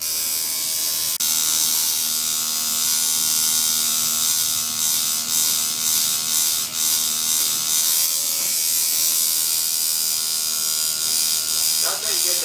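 Tattoo machine buzzing steadily while shading, with the needle kept the same and texture varied by hand movement; a continuous near electric drone that shifts slightly in pitch, with faint clicks near the end.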